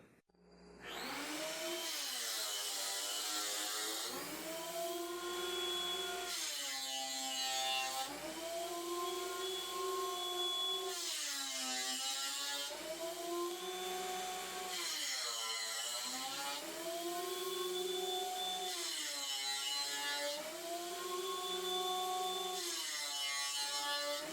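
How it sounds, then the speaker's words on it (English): A thickness planer flattens one face of white oak boards, a loud, steady mechanical roar with a high whine that rises and dips as about seven boards feed through one after another. "now I'm going to run each one of these boards through the planer, but only on one side"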